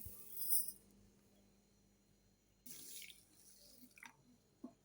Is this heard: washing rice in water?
yes